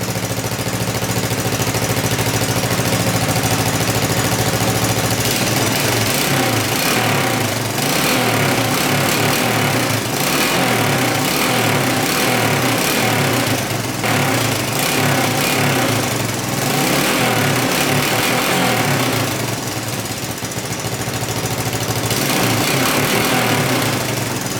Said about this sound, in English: Engine sounds really good.